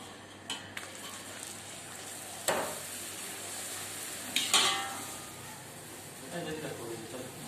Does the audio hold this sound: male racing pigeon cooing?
no